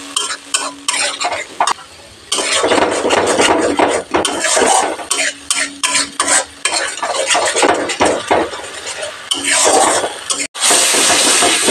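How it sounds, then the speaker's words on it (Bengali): Spiced masala with salt and turmeric stirred in a pan over low to medium heat for a paneer and cauliflower curry: loud, close, repeated scraping of a spoon against metal over a continuous sizzle. "লো টু মিডিয়াম হিটে মশলা কষিয়ে নেব। নেড়ে দিলাম।"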